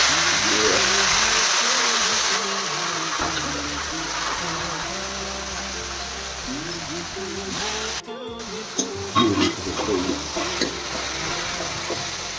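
Spices fry and get stirred in a pan, giving a continuous sizzle with scraping and stirring noises. A voice talks over it throughout.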